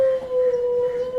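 A dog lets out a long, sustained howl, a single wavering mournful tone held close and fairly loud for the whole moment.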